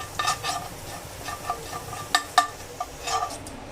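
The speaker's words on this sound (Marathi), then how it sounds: "बारीक गॅसवर भाजून घ्यायचं" Scraping stir of a spoon through dry semolina roasting on a low flame in a hot pan, with soft sizzling and a series of light metallic taps, close and fairly quiet.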